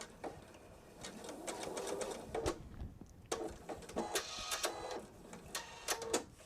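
A sewing machine stitches fabric in short, uneven bursts of rapid clicking and whirring, starting and stopping several times at close range while a bag is sewn from jelly roll strips.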